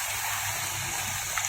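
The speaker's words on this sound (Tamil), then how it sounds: "இப்போ கொஞ்சமாக தண்ணி ஊற்றிக்கிறோம்." Water is poured from a mixer jar into country chicken curry masala, a brief, steady rushing splash heard close and alone.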